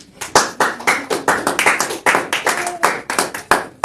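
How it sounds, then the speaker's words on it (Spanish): A congregation claps in a church service, heard as a brisk, uneven series of sharp hand claps, close and fairly loud, with a brief voice briefly audible underneath. "Dale un fuerte aplauso al Señor Jesús"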